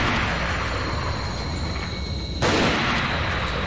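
A loud gunshot from Resident Evil 4 (Life in Hell mod) bursts out partway through, over a dense, roaring background of game noise.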